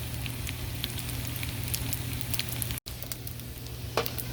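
Rice frying in oil in a pan gives a steady, even sizzle with faint crackles throughout, a low hum underneath and one very brief dropout partway through.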